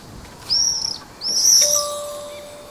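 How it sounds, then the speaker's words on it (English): A bird in the video game Alba: A Wildlife Adventure gives two clear, high whistled calls in quick succession, close and prominent over soft ambient background. "I think that's the bird I might need."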